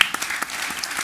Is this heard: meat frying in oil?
no